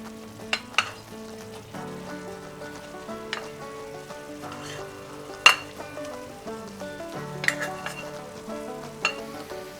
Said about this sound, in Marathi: आता ह्याच्यात आपण शिजवून घेतलेला भात घालून घेऊया।